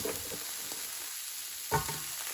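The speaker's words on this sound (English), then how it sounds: "I'm sauteing about half of what was left in that bag of seasoning veggies" Seasoning vegetables sauteing in a pan, with a low, soft sizzle and a couple of faint stirring scrapes, one slightly louder near the end.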